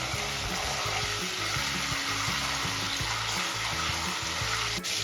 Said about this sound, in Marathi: इथे आपल्याला अद्रक लसूणची पेस्ट काही सेकंदासाठी परतून घ्यायची आहे